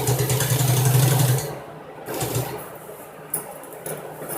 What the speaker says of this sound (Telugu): ఇలా ప్లీట్స్ పెట్టేసి మొత్తము స్టిచ్ చేసేయాలండి